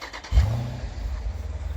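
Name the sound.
Jeep SRT engine starting via remote start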